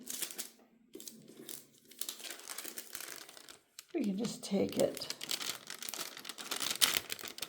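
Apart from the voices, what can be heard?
paper being crumpled while removing soil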